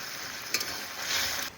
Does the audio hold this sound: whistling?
no